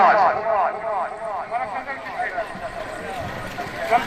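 A horse gallops through a tent pegging (neza bazi) event in Kharian, Gujrat, its hoofbeats buried under a constant loud announcer's voice and crowd noise.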